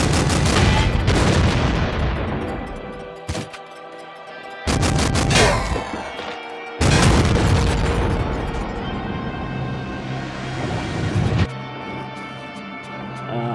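Booming bursts from a powerful weapon in the video game Nuclear Throne, several heavy blasts with short gaps, loud and close, each trailing off into a ringing tail.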